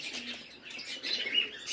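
Soft, close chirping and cooing from a pair of Kaldama Giribaz pigeons, a steady faint twittering with no talk over it.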